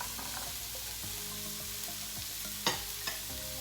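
Chopped onion sizzles steadily in a pan while being stirred, with scraping strokes and two brief louder knocks near the end, and no voices.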